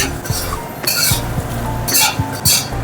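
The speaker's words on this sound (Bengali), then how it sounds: "ফোড়নটাকে এবার একটু ভেজে নেব।" Whole spices (bay leaf, cardamom, clove, cinnamon, dry chilli and cumin) fry in oil, giving a steady sizzle. Close, loud metallic clinks and stirring scrapes against the pan cut through it several times.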